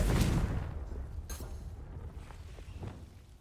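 A Confringo blasting spell goes off in Hogwarts Legacy: a loud booming blast at the start that rumbles away, followed by a sharp crack and a few fainter impacts, with no voices.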